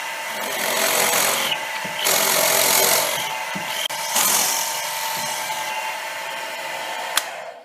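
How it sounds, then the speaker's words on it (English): A drill boring a hole into a metal part for a milling vise speeder, a steady grinding whir in several bursts with short pauses, close and fairly loud. "let's go ahead and drill our hole."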